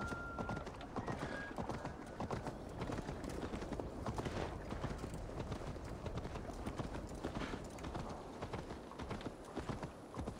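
Horse hooves clip-clop in a steady, continuous rhythm while riding in the video game Assassin's Creed Valhalla, sounding fairly soft and even throughout.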